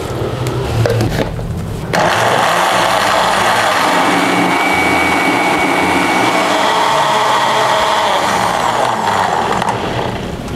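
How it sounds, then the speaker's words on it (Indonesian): An electric blender grinds chopped rendang spices with thin coconut milk in a loud, steady whirring roar that starts after a short pause and holds evenly to the end. "Biasanya kalau blendernya bagus, kita cukup blender selama 1 menit saja."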